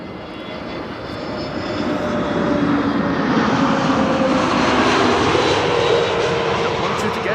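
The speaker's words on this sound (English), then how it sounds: "this is EasyJet arriving from London Luton" EasyJet airliner arriving at Amsterdam Schiphol from London Luton, a steady broadband jet roar that swells as it nears and holds loud and close throughout, with no talk over it.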